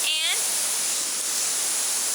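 Steady broadband rush of a waterfall in a bamboo forest on a hot-day hike, constant and fairly loud, with a brief bird chirp near the start and no speech.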